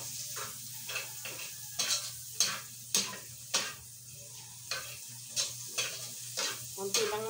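Meat fries in its own rendered fat in a pan, a steady low sizzle broken by regular scraping strokes of a spatula stirring it, close and clear.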